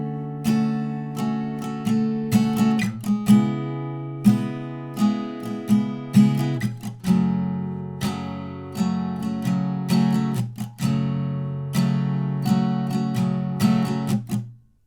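Acoustic guitar strumming chords in a steady down-up rhythm, bright percussive strums with shifting chords over about fifteen seconds, no voices.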